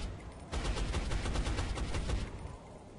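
Suppressing gunfire in the XCOM video game bursts out after a short quiet lead-in, a loud rapid automatic volley of shots lasting about two seconds before tapering off.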